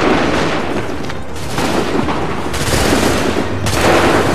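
Musket volleys crash out in the Assassin's Creed 3 video game, repeated rolling gunfire bursts over a dense battlefield din, loud and continuous with no speech.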